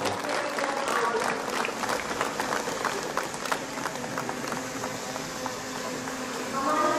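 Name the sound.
applause from the audience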